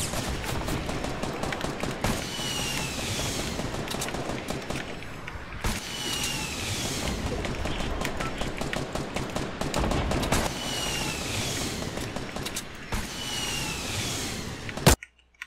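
Gunfire in Fortnite Battle Royale, dense sustained shooting in loud continuous bursts with brief gaps, layered under busy game sounds and no talking.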